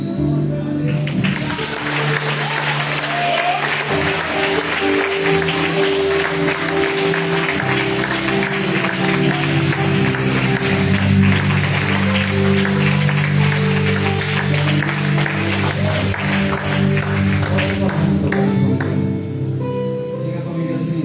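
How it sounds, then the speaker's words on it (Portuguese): Church congregation applauding during an evening worship service, a long dense stretch of clapping with music and voices running beneath it the whole time. "Você começou a aplaudir o Senhor."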